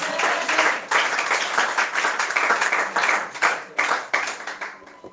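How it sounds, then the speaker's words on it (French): A church congregation applauds the Lord with loud, dense clapping in repeated surging waves, close and filling the room, continuing for about five seconds. "Est-ce que tu peux acclamer le Seigneur?"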